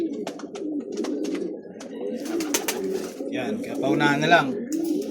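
Taiwan imported pigeons coo softly and flutter in a crowded cage, with low murmuring calls scattered throughout. Someone talks over them at close range.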